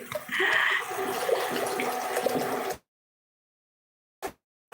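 Water pours steadily into a pot of cooking chana dal for a few seconds, rushing and splashing close by, then stops abruptly into silence apart from a brief clunk afterward.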